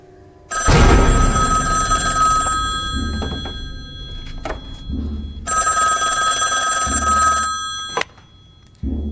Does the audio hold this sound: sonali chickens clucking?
no